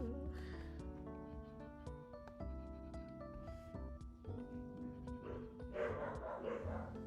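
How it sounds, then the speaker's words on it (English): Dogs indoors bark, yip and whimper in repeated bursts, moderately quiet overall, with tonal yelps rising and falling across the stretch. "I'm gonna apologize for my dogs in advance because they're gonna be really loud and annoying."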